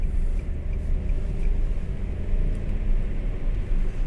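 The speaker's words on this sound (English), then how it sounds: "a lighter engine with a really nice exhaust note that spins up quite nicely" A 2018 Nissan Micra's small engine hums with a low, throaty exhaust rumble, steady and close, with road noise underneath and no talking.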